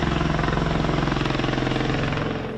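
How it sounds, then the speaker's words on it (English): A Bell Boeing V-22 Osprey tiltrotor aircraft in flight gives off a loud, steady, rapid rotor thump over a dense engine roar, holding close and constant throughout with no voices. "It takes off like a helicopter and, with an aeronautical miracle of engineering, rotates its jet engines to fly fast like a plane."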